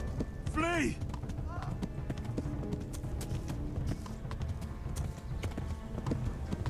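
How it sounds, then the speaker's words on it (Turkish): A green horse gallops in a kingdom video game, quick rhythmic hoof clip-clops running throughout with a brief whinny near the start, beneath someone talking over the gameplay. "Atın da bakın. Yeşil at görüyorsunuz."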